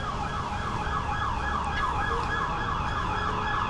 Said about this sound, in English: Yep, it was a cop car.